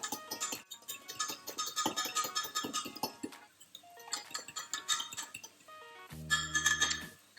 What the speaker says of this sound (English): I'm just going to mix that all together.